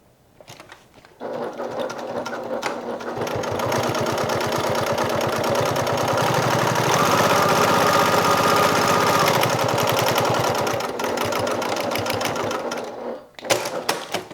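A sewing machine topstitches an eighth-inch seam on a crossbody bag, running in one continuous rapid mechanical whir for about twelve seconds after a brief start, then stopping, with no talking.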